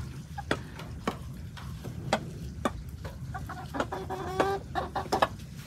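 Peacock giving unusual, irregular calls: short sharp clucking and honking bursts spaced about half a second apart, fairly close and moderately quiet over a low background rumble.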